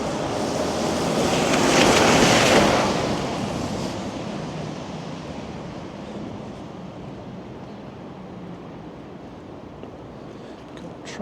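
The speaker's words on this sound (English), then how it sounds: "with this crazy wind" Strong gusting wind roars across the microphone over steady crashing surf, loudest in the first few seconds, then settling into a continuous blustery rush, on an early winter morning in downtown Toronto.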